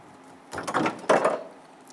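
A metal plate inside the liftgate door of a 1995-2001 Ford Explorer gives two short, close, hollow clunks about half a second apart as it drops, followed by quiet.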